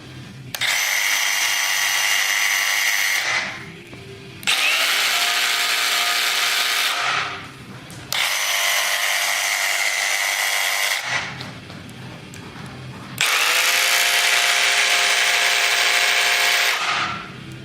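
A power saw, apparently a Shop Max tool compared against a DeWalt, runs in four loud sustained bursts of about three seconds each, separated by brief quieter spin-down gaps, with no talking.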